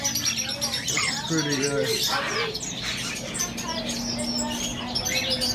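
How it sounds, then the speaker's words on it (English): Many small caged birds chirp and tweet all at once inside a bird shop, making a busy, overlapping chatter with one steady whistling tone, while a person speaks briefly over it. "Look at all these birds."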